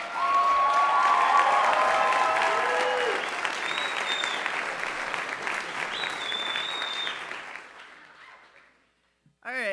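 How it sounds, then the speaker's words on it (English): At the Goshen College LEAFYs awards, an audience applauds athletic director Erica with loud sustained clapping and a few cheers, fading gradually toward the end, where a brief voice cuts in. "give her a loud round of applause for Erica"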